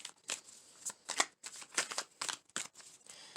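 Tarot cards are shuffled in a series of quick riffling bursts, close and fairly quiet, with short gaps between each pass.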